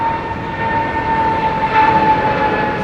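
Boeing 787 Dreamliner at Heathrow, a steady jet engine whine with a high, sustained tone over broad rumbling, loud and continuous across the short span.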